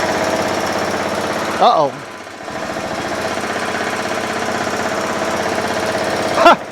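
A John Deere L100 lawn tractor engine idles with a rapid, rough chugging pulse, surging briefly twice, while someone says a word over it.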